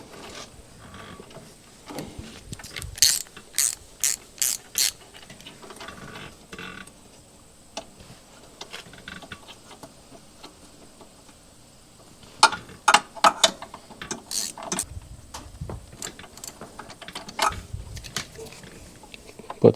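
Ratchet clicking while a spark plug is threaded into an 11kW Generac standby generator engine, with quick bursts of close ratcheting separated by quieter pauses and light metallic handling noises.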